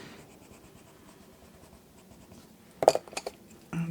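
Watercolour pencils scratch softly across paper while colouring, a faint steady rasping followed by a few louder taps and strokes near the end.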